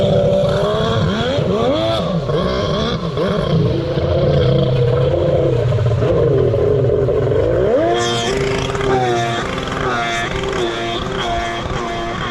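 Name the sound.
Sea-Doo X2 jet ski with 1100 engine swap running a lap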